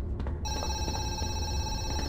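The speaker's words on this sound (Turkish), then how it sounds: "Abi telefon." A telephone rings in the zoo horror video game Zoochosis, with a steady electronic trill that starts after a brief moment and continues unbroken, loud and close.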